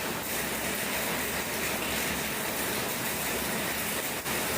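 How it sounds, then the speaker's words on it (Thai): Rain falling steadily, a continuous broadband hiss at constant loudness with no voices, holding evenly throughout. "ฝนตก"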